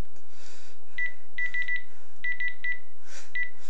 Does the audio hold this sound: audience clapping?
no